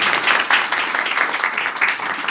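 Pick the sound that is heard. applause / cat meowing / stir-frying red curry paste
applause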